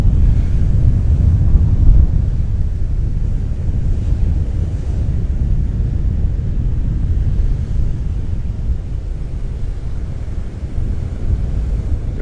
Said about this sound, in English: Right here, I am facing directly into the wind.